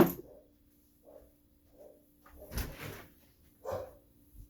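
A dog barks a few times in short bursts, close by, with quiet gaps between and a faint hum underneath.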